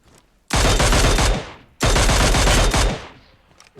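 Two loud, close bursts of rapid automatic gunfire in a shooter video game, each roughly a second long with a short gap between, ringing off briefly after the second, no talking.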